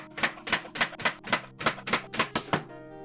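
A knife chops peeled plantain into chunks on a cutting board, ten crisp, evenly spaced knocks close up, with a steady rhythm and no talking.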